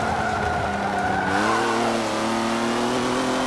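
A Volvo racing in Forza Motorsport 7 roars steadily at high revs, its engine pitch dipping at a gear change and then climbing again, loud and continuous with a hint of tire noise.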